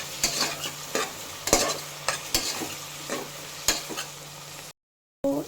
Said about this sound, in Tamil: கொஞ்சமாக உப்பு மட்டும் போட்டு நல்லா ஒரு மிக்ஸ் கொடுத்துடலாம்